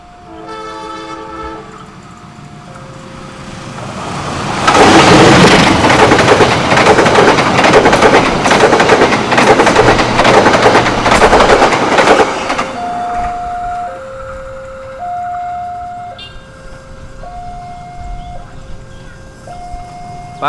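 A train horn sounds, then the loud Pasundan passenger train rushes past with rumbling wheels, followed by a repeating two-tone crossing bell as it fades.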